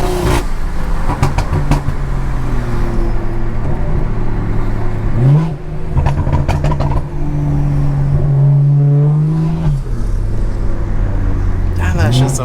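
Loud BMW B58 straight-six car driving through city streets, engine droning near and steady with several revs rising and falling, gear changes and bursts of acceleration, a brief pop or crackle here and there.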